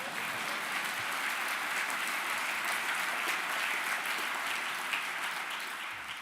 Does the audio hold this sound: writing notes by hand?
no